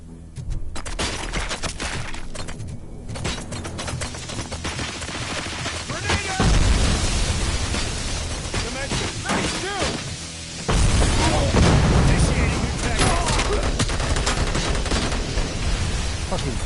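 Gunfire and explosions in the video game Robocop: Rogue City, heard as sustained bursts of shots and heavy booming impacts that swell louder midway, layered under game voices and talk.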